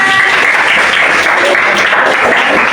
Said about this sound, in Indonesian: Tepuk tangan buat teman saya